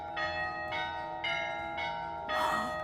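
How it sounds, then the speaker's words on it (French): A bell rings in four or five evenly spaced, resonant strokes, each tone ringing on briefly before the next, with the last strike louder. "tout d'un coup, vous entendez comme une cloche"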